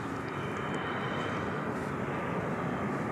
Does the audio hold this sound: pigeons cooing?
no